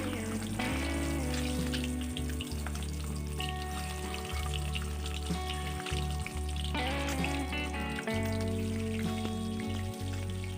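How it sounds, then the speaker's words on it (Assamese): Eggs frying in hot oil in a kadai give a steady, close sizzle and crackle that runs the whole time, with a low background hum and occasional faint clinks. "এতিয়া মই কেৰাহী পাতি তেল গৰম হ'বলৈ দি ইয়াত মই এতিয়া কণীকেইটা আগে ফ্ৰাই কৰি ল'ম"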